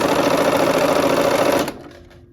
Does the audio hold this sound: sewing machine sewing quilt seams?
yes